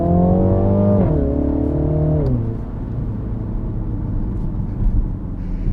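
A JCW Mini Countryman ALL4 with a BMW TwinPower 2-liter turbocharged four-cylinder accelerates, its engine note rising through gears with a shift near the start, then settling into a steady, lower rumble as it eases off.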